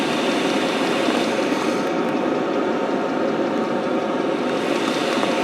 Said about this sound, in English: that pump is pumping like Billio now